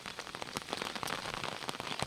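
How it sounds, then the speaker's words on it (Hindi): Steady rain falls outdoors in the hills during a long downpour, a dense continuous patter of drops hitting surfaces with scattered sharper splashes, moderately close and with no voices. "दोस्तों, वर्तमान समय का मौसम बारिश का इस प्रकार से कहर चल रहा है और लगभग 24 घंटे पूरे होने को हैं इस बारिश को।"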